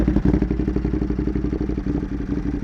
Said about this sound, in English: This exhaust comes with this titanium link pipe, carbon fiber heat guard, and the muffler itself.